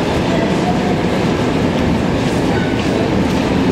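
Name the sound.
MR-73 metro train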